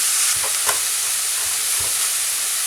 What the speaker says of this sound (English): I'm going to just let it cook, simmer for about 10 minutes.